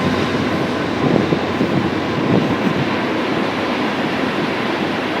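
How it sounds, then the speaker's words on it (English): Train rumbling past outdoors on a cold, windy snowy day, a steady broadband roar of rail cars with wind noise mixed in, continuous and fairly close with no talking. "Trains still run though, as you can see."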